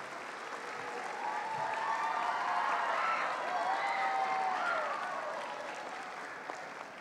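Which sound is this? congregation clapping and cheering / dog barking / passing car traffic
congregation clapping and cheering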